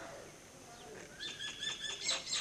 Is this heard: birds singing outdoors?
yes